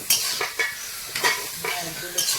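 Prawns sizzle in a pan with a ground melon-seed paste, stirred in quick scraping strokes that come in short bursts over a steady frying hiss, close and fairly loud.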